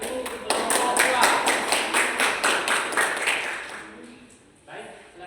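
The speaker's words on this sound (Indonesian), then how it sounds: "Tepuk tangan untuk kelompok 2." Students in a classroom clap for a group that has just finished presenting, a rhythmic run of sharp claps that fades after about four seconds, with voices underneath.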